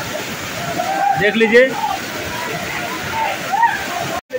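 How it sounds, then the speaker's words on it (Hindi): Water crashes and splashes at Lodh Falls waterfall in Jharkhand, a constant loud roaring wash with someone speaking over it. "पानी का कितना छींटा मार रहा है"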